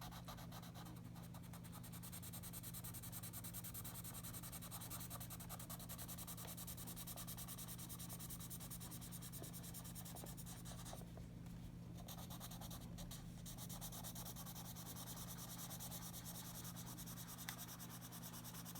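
A pink Ohuhu marker rubs and scratches softly across paper, faint close strokes under a steady background hiss, with no voices.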